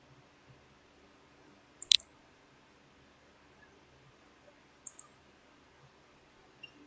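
A computer mouse clicks on a rewards card in a Second Life game: one sharp, close click stands out against a quiet background, followed later by a couple of fainter ticks.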